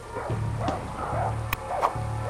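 A dog in the video game Far Cry 6, fighting a crocodile, gives several close, loud barks and yips in an uneven rhythm over a low steady game hum.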